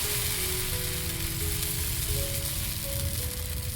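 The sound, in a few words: coconut dosa batter sizzling on a hot pan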